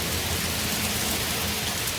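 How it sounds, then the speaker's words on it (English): Steady rain falls on a rainy day, a dense, even hiss of drops on surfaces that stays constant and fairly loud throughout with no voices. "Gotta love a rainy day."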